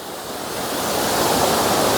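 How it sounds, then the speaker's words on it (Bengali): Borhill waterfall in Meghalaya rushing down, a dense, steady roar of falling water heard from below, loud and continuous, swelling slightly over the moment. "ঝর্ণাটা খুব সুন্দর, একদম আমরা নিচ থেকে ঝর্ণাটাকে একটু নিচ থেকে দেখায় কিভাবে প্রবাহিত হচ্ছে"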